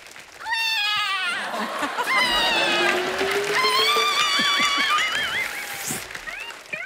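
A voice imitates a kitten on a comedy talk show stage, giving a run of high, wavering mews that rise and fall almost continuously for several seconds, close and fairly loud over background room noise.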